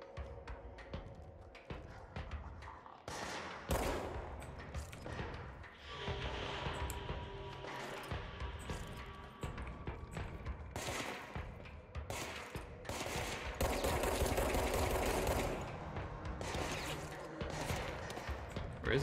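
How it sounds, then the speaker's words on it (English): Enemy gunfire in the video game Control comes in repeated rattling bursts and volleys across the stretch, loud and dense at times, with brief pauses and some talk mixed in. "Where is he shooting me from?"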